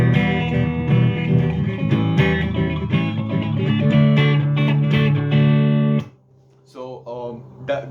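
An acoustic guitar strums the chords of a song in a fairly fast pattern, loud and close with a dense rhythmic stream of chords that stops abruptly near the end before a few softer notes.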